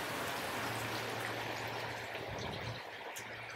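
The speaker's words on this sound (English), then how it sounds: "So they burst, and water comes out as rain." Steady broadband hiss of rain falling, with a low hum running underneath and no voices.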